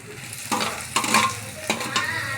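Tomato sautés in a pan with ginger-garlic paste, chili and cinnamon, a steady close frying hiss broken by a few stirring scrapes at regular intervals, with no talking.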